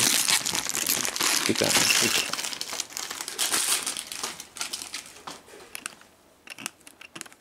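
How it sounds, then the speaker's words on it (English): Packaging of a Mayflash F500 Elite arcade fightstick crinkling and ripping up close, a loud sustained rustle that thins out toward the end, with a brief spoken remark. "I'm gonna have to tear this apparently."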